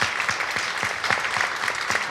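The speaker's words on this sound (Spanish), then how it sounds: "Aplauso para la estrella." An audience at a Spanish-language café talk event claps for a guest, a steady burst of moderate applause with dense, rapid hand claps that continues evenly throughout.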